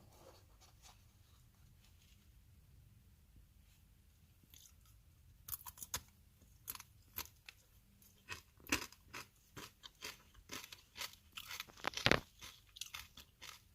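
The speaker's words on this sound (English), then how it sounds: "They are still very crispy and the chocolate taste is intense and delicious." Chocolate-covered crispy chips from Thailand are bitten and chewed, giving a series of sharp, close, irregular crunches that grow denser in the second half, with no talking.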